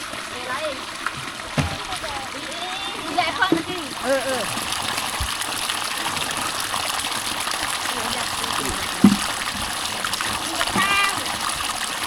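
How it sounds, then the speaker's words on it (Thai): Outdoor bathing by a water source in a Lao village, with water splashing and gushing in uneven bursts, a loud splash near the end, while voices are heard faintly in the background. "ยินเสียงอุ้มๆนั่นเพิ่นอาบน้ำอยู่"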